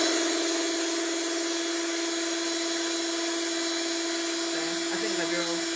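A power drill boring into a centerpiece base, giving a continuous high-pitched whine that holds steady and strains slightly near the end.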